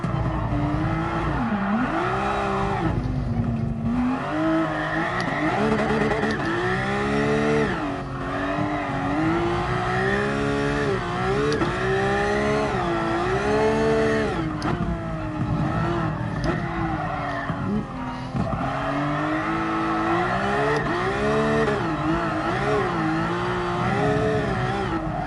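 A drift car in GT Sport at the Red Bull Ring screams near its rev limiter and bounces off it again and again, with loud sustained tire squeal and engine howl rising and falling throughout.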